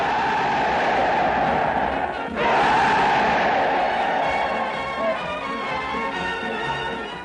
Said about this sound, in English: The troops put as much energy into the cheering as they had done into the fighting.